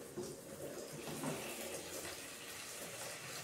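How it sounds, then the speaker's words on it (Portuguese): Water poured into a pot of beans and jerked beef makes a soft, steady gushing splash for a few seconds, heard fairly quietly and without voices. "Então, vou adicionar mais água."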